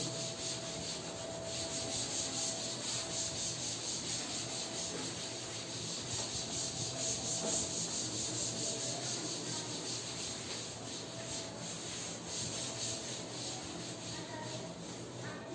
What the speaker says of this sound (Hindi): तो मैं इसको थोड़ा रब कर देता हूं।